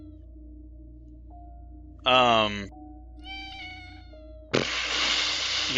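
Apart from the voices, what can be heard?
black cat meowing in a video game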